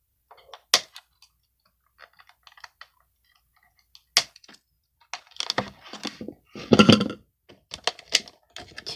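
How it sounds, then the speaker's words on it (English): Cutting a plastic tie off the waist of a McFarlane Toys All for One action figure: scattered small clicks and snips, then a louder cluster of plastic rustling and handling noises up close. "he comes with one tie around his waist that I need to cut. So I'm just gonna cut that now."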